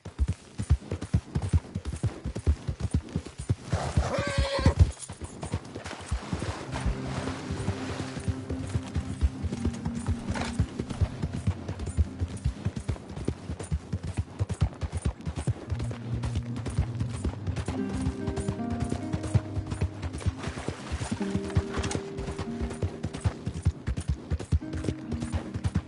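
Rapid rhythmic hoofbeats of a horse galloping in Red Dead Redemption 2, running continuously under game music, with a brief whinny or rustle early on and no talk.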